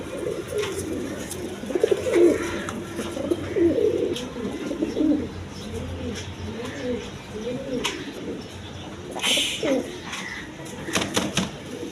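A male red Jacobin pigeon coos repeatedly in low, rolling phrases at moderate distance, with occasional brief chirps and a knock over steady background noise.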